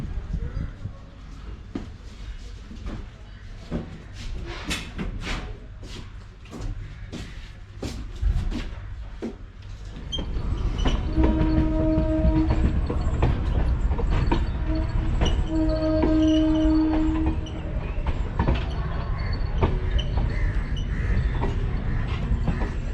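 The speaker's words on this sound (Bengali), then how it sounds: "এখন আমাদের ট্রেন জসিডি বাবা বৈদ্যনাথ ধাম মেমু জসিডি স্টেশন দিয়ে ছাড়লো।" An eight-coach MEMU passenger train departs Jasidih station from platform 4, heard from inside: clanks and creaks at first, then a loud steady rumble as it gathers speed, with a horn sounding midway.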